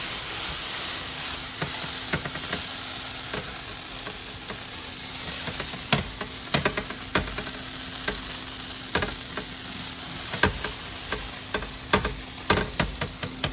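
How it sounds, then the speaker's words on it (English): Diced potato and carrot fry in a pan, a continuous sizzle broken by repeated scraping knocks and crackles of a utensil stirring, growing more frequent in the second half, with no voices. "I've been moving the potato and the carrot for a couple of minutes already"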